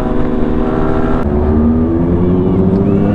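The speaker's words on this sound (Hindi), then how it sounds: "तो गाइस यहाँ पे अपना डुकाटी पानी गो V4 भी आ चुका है" Ducati Panigale V4 superbike at a superbike meetup, its engine loud and close, droning and rising in pitch as it revs, with a sharp change partway through and faint crowd noise around it.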